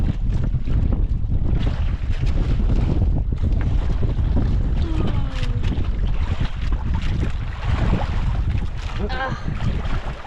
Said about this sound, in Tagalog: Lakas na yung hangin day.